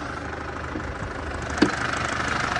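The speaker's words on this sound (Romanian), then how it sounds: "Vă prezentăm acest motor" A 2012 Audi A5 facelift with a 1.8 FSI petrol engine idles nearby, a steady even hum with a light mechanical tick and one brief clunk partway through.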